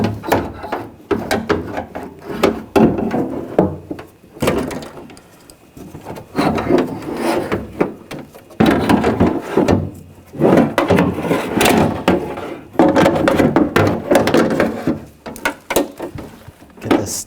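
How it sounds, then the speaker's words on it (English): Bursts of scraping, clunking and rattling as a metal window regulator assembly for a 2000-2006 BMW X5 is slid and maneuvered into the door shell, with short pauses between the handling sounds. "Now slide the regulator in."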